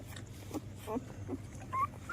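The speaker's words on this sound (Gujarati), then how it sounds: "3 જ હતા, આ 3 જ ગલુડિયા છે. 5 ગલુડિયા હતા" Three small puppies give brief, soft whimpers and one higher whine near the end, scattered and faint against steady low background hum, while a person talks nearby.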